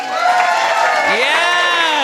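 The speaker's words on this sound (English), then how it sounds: "Everybody, when I say a thing, just maybe cheer." A comedy finals audience cheering on cue, a loud burst of crowd whoops and shouts held for about two seconds, close and full, with a voice rising above the cheers.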